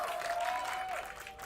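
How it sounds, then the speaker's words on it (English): A large arena crowd at an esports Valorant match between MIBR and NRG applauds and cheers in a dense, sustained roar that fades slightly toward the end. "Crowd's loving it."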